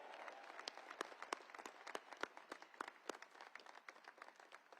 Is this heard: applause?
yes